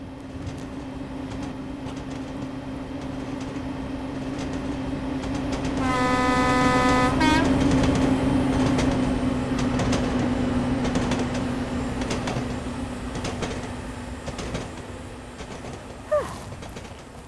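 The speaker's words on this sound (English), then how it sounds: "Oh, there's a train coming." A train rumbles steadily past nearby, with a loud horn blast partway through and a rolling clatter that continues afterward.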